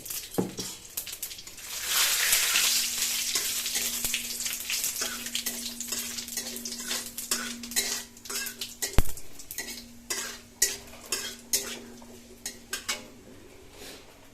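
Bay leaves and cumin seeds dropped into hot oil in a pan, giving a loud burst of sizzling that settles into steady frying crackle, with utensil clinks and a low hum nearby.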